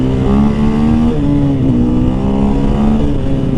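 A 2023 KTM 500 EXC-F off-road motorcycle revs hard close by as it pulls a wheelie, its loud engine note rising and falling steadily with no voices over it.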